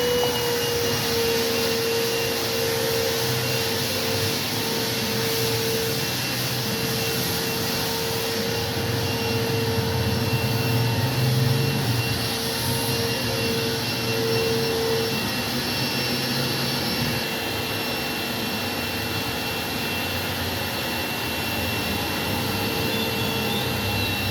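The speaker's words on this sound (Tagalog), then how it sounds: "pinupugahan na ng sabon ang ating car" Soap being sprayed onto a car at a car wash, a loud, steady, hissing roar of pressurized spray with a constant mechanical drone beneath it, unbroken throughout.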